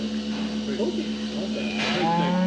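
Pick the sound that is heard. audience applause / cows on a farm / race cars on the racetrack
cows on a farm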